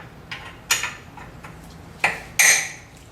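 Wrench working fasteners loose on a Toyota 4Runner power steering rack, a few sharp metallic clicks and ticks spaced irregularly, close and moderately loud.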